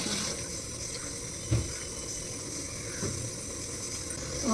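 Something is rinsed under a steadily running tap, the water flowing continuously at moderate volume with a few small knocks and splashes, no talking.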